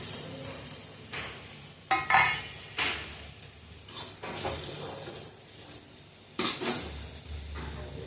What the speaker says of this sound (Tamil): எண்ணெயை ஊற்றி இந்த மாதிரி வதக்க வேண்டியதான்.